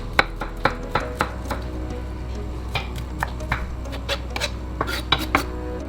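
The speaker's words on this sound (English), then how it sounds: "First, we need to chop the onion." A knife chops an onion on a cutting board for pastitsio, a series of sharp, close, irregular taps over a low steady background hum.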